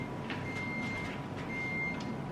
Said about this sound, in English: Oh, the fridge is beeping.